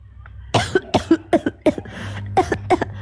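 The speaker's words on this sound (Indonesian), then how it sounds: "Batuk." A bout of harsh coughing, about eight or nine close bursts in quick succession with a brief pause midway.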